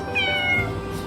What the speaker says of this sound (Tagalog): Si Noah, ito yung pinakamasungit na pusa